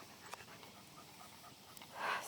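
A dog pants softly and steadily during foundation training, a quiet, rhythmic breathing close by with a slightly louder burst near the end and no talk.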